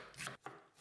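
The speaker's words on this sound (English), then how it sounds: "Now cut 1 whole onion, red, white, doesn't matter" A knife chops through a whole onion on a cutting board, three crisp strikes about 0.3 seconds apart, close and clear with no talk.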